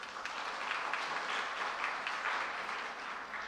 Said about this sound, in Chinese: 请大家拍掌来感谢